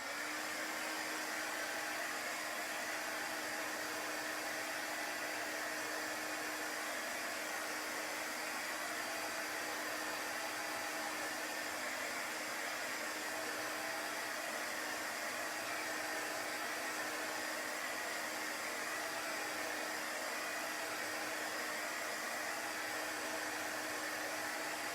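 A heat tool blows hot air over chalk paste on galvanized metal, a steady, unbroken whooshing hum that holds at the same level from start to finish.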